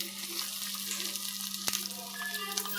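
Biscuit-crumb-coated food is dropped into hot oil and fries with a faint, steady sizzle and a low constant hum beneath, and one sharp knock partway through.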